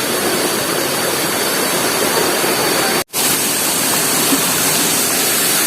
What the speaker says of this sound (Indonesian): Kita sudah sampai di air terjun Wai Campang atau lebih populer dengan Angel Waterfall